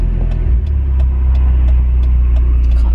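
A Nissan S15 drives through a busy junction, its engine a steady loud mid-range drone with low rumble throughout and light road noise, close and continuous without speech.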